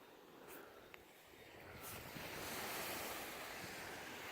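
Surf rolling onto a beach on a bright day, with wind buffeting the microphone; a broad, steady wash that swells louder midway, with no talk.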